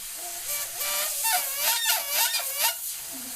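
Airbrush hissing while painting a skull, a steady airy hiss with wavering, squealing tones like a strained whistle, fairly quiet and alone.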